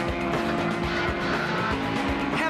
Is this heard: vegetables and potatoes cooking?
no